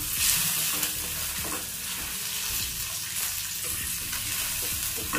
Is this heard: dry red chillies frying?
yes